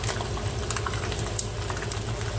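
Chow mein noodles boil in a pot of water for Guyanese-style veggie tofu chow mein, giving a close, steady bubbling with small pops and gurgles and no talking.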